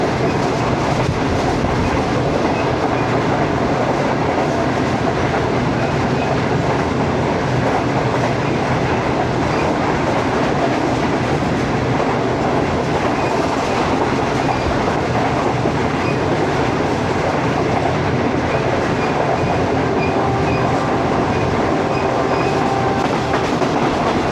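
Shalimar Express passenger train in Pakistan running on the rails, a loud steady rumble with continuous clickety-clack of wheels over track joints throughout, no voices.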